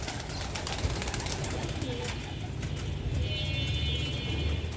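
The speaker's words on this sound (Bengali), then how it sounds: "এই যে দেখেন আমার কবুতরগুলা খাওয়ার জন্য পাগল হয়ে গেছে" Hungry pet pigeons wait to be fed, with soft cooing and wing rustles in a dense, noisy backdrop, while a voice is faintly present.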